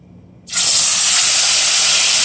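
Turkey wings dropped into well-heated oil in a pot set off a sudden loud, sustained hiss and sizzle after a brief quiet moment, close and steady to the end.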